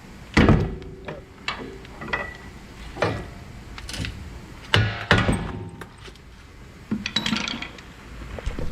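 Several sharp metallic knocks from a hammer on a leveling kit part of a Chevrolet Colorado, spaced irregularly, ringing briefly, close by with quieter shuffling between strikes.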